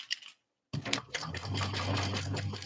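A sewing machine stitches a seam on a tote bag, starting after a short pause into a fast, steady, close mechanical rattle of the needle that continues without talk.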